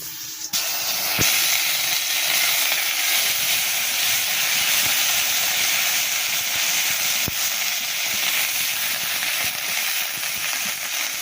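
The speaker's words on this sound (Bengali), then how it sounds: "এবারে এই তেলের মধ্যে মশলাগুলো সব দিয়ে দেব" A loud, steady sizzle of spices frying in hot oil hisses continuously, close up, with a brief clatter near the start.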